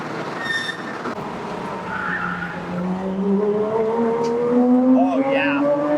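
Porsche Cayman race car with a 3.4L engine driving on track, engine note climbing steadily in pitch under acceleration, with tire noise and someone talking over it.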